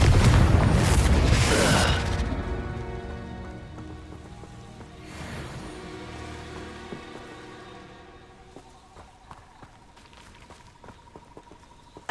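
Confringo blasting spell in Hogwarts Legacy, a loud close explosion up front that fades into crackling, pattering debris, followed by a weaker second burst and scattered small impacts.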